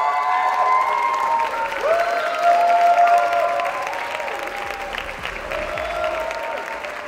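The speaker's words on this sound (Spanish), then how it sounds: "démosle un muy fuerte aplauso a Manuel Suárez" Strong, continuous audience applause with a crowd murmur and some cheering at a music faculty event with a symphonic band, steady and full for several seconds, with whistling tones audible above it.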